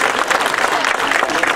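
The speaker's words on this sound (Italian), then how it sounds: "Prego, un bel applauso anche a loro." Audience applause for prize winners at an award ceremony, a brief, steady burst of clapping close by with crowd noise and a voice partly over it.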